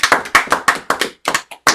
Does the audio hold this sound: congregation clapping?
yes